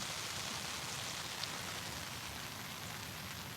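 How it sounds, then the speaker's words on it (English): Steady rain pouring onto a surface, a dense continuous hiss with patter throughout, fairly loud and close. "Raining, Nato."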